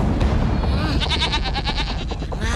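Goats bleat in an animated retelling of the Timun Mas legend, with several wavering bleats overlapping beneath a character's speech and rumbling background effects.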